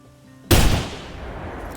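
A single rifle shot at an axis deer in the hunting game theHunter Classic, one sharp loud blast followed by a decaying echo, alone with no talk.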